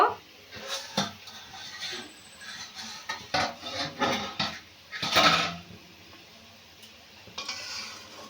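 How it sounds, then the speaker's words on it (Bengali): Metal cookware clinks and clatters in short irregular bursts, with one louder scrape of a cooking pot lid being lifted partway through over a soft simmering hiss of boiling gravy for pabda fish. "দশ মিনিট হয়ে গেছে ঢাকা খুলে দেখব"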